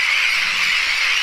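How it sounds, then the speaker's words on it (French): Black-headed and Mediterranean gulls mixed with terns calling in a breeding colony, a dense, continuous high-pitched chorus of shrill cries heard at a distance with no single bird standing out. "Chaque oiseau défend son territoire en permanence par des cris et des coups de bec"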